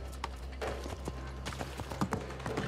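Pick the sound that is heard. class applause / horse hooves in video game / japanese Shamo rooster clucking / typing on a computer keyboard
horse hooves in video game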